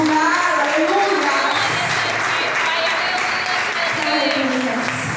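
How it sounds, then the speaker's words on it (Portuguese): A church congregation applauding, dense sustained clapping from a large crowd filling the room with voices calling out over it throughout. "A igreja dá uma salva de palmas"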